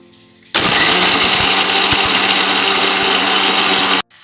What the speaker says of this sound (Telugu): ఇప్పుడు ఆ మసాలాని మిక్సీకి వేసేద్దాం.